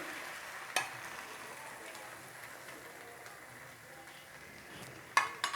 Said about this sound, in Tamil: இப்போ ரெடி பண்ண முட்டை பீட்டர் இதில் ஊற்றிடலாம்.